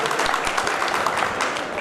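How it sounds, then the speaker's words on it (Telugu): Steady crowd applause at a public event, a dense wash of many hands clapping throughout with no pauses, fairly loud and even. "ఒక్కసారి మనం అందరం చప్పట్లతో స్వాగతం తెలియజేయాలని కోరుకుంటున్నాం"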